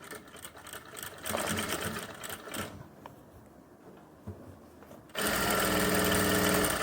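A sewing machine stitches the waistband strip of a ladies' pant. It runs in short, uneven bursts at first, then breaks into a loud, steady, continuous run near the end.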